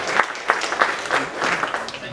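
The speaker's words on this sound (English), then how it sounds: "She needs a round of applause" Audience applause at a bell ringers' annual general meeting, a short burst of hand clapping from a seated crowd, fairly loud and close, with a voice briefly audible over it.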